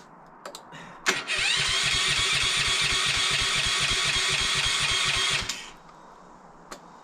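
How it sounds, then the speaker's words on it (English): Small pressure washer engine cranking for about four seconds with a steady rapid chugging that never catches, then cutting out into quiet. "Pressure washer doesn't want to start either."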